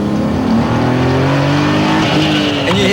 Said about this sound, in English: you hear that dump valve